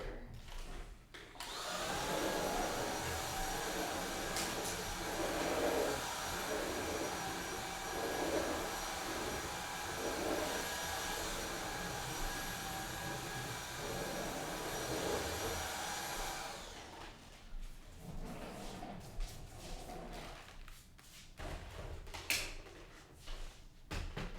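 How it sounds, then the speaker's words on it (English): A vacuum cleaner runs steadily over a floor during spring cleaning, a loud, constant whining drone that stops partway, leaving quieter knocks and handling noises, with no voices. "I did want to finish vacuuming this area really quick"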